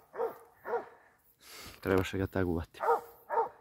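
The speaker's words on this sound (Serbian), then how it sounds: "Da laje." A hunting dog in training on wild boar barks in a thorny thicket, giving several sharp barks in a loose rhythm, with someone talking in between.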